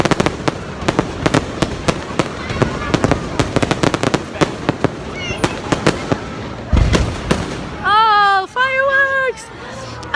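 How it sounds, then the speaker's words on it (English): Fireworks at Disney's Magic Kingdom crackle and pop in rapid, loud bursts with a few heavier booms, over a murmuring crowd and a brief tonal whistle near the end. "Fireworks!"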